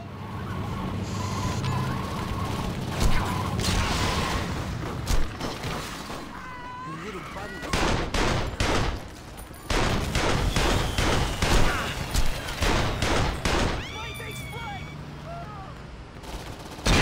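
Rapid bursts of automatic shotgun fire and other gunfire from the video game Saints Row 2 repeat through a busy, loud mix, with voices talking between and over the shots.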